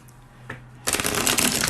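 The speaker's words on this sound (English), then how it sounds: "So you can shuffle the deck." A deck of art cards being shuffled by hand, a short quiet handling sound followed by a loud, dense riffling burst close up.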